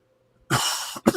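A single harsh cough from a man at his desk, loud and close, one long burst followed by a shorter second hack after brief silence.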